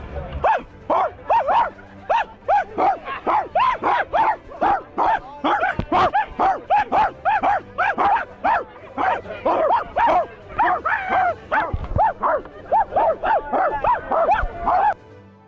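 Voices imitate dog barks back and forth in a rapid, continuous run of loud, close yelping barks lasting the whole stretch, with short pauses between the bursts.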